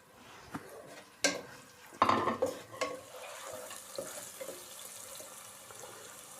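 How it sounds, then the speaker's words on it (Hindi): Medium onion frying in about a cup of oil in a pan for macaroni, with a steady sizzle under scraping stirs and a few clinks of the utensil against the metal. "दो मिनट प्याज फ्राई हो जाए"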